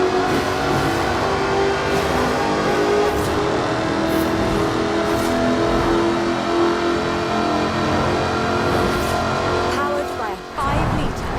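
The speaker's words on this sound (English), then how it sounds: "Powered by a 5-litre V8 supercharged engine, with a fully aluminium body, it's blisteringly fast" Supercharged 5-litre V8 engine of an aluminium-bodied sports car in Forza Horizon 4, a loud sustained roar and rev under continuous talk, dipping briefly near the end.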